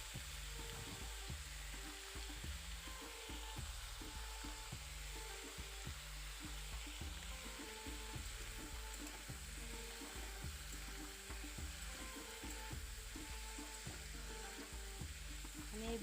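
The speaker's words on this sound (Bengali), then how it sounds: "এবার আমি নেড়ে চেড়ে ভেজে নিব।" Yard-long beans stir-fried in a pan with turmeric give a continuous sizzle, with regular scraping and tapping of a spatula as the beans are stirred, close and steady throughout.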